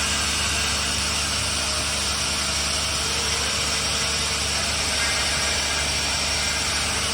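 A Mazak SQT CNC turning centre with C axis, live tools and sub spindle running on a dry run, giving a loud, steady mechanical hum and hiss that stays even for the whole stretch, with no talking.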